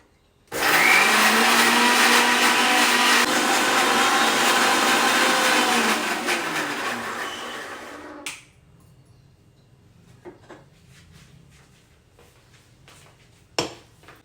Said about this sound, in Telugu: మిక్సీ పడుతున్నా